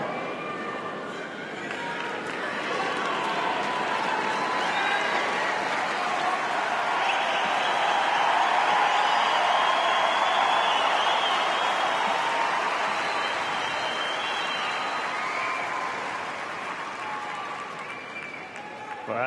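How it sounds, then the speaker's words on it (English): A tennis crowd roars and applauds after a break point, a broad, sustained wash of cheering and clapping that swells to a peak midway and then slowly fades. "listen to the roar of the crowd"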